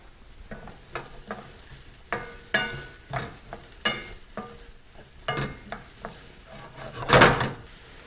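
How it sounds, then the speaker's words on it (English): Carrots and onions sweating in olive oil over medium heat, stirred in a pan with a series of distinct scraping strokes over a soft sizzle, the last stroke loudest near the end. "I'm going to sweat these vegetables, which basically means I'm going to cook them over medium heat without achieving any color."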